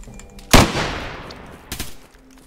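Two sharp gunshots from a DayZ firefight, a loud close crack with a ringing tail followed about a second later by a fainter second shot, no talking.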